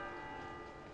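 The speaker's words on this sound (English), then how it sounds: "At that moment, the station bell tolls" A train station bell tolls with a steady, sustained ringing tone that fades slowly, heard alone without voices.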